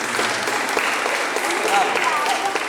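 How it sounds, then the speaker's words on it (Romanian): Church listeners applaud as names are called during a thanksgiving gathering, a moderate, even wash of many hands clapping together, with a voice speaking faintly over part of it. "Aplaudăm."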